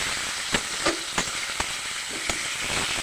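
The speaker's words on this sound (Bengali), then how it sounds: "ঝাল পেঁয়াজটা সুন্দর করে একটু ভাজে নিচ্ছি।" Green chillies, onion and garlic sizzle and fry steadily in a pan, with a constant hiss broken by several sharp clacks and scrapes of stirring.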